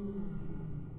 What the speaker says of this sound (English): I think that's just the whale though